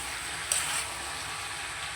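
Curry masala with green chillies cooking down for a small-fish tomato curry, a steady, even broadband sizzle with a brief louder hiss flaring up once.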